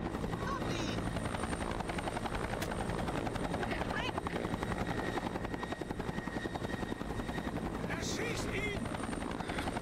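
A helicopter in the video game XIII Remake makes a loud, steady rotor chop with a rapid rhythmic thudding and engine whine that holds evenly throughout.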